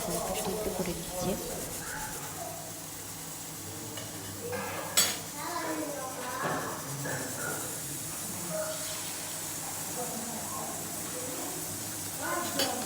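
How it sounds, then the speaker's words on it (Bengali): Oil heats in a kadai pan as an egg goes in, with clanking metal, scraping and stirring over a faint sizzle, close by, while voices talk in the background. "এখানে কড়াইয়ে তেল রান্না হয়ে গেল, ডিমটা এখানে দিয়ে দিবে।"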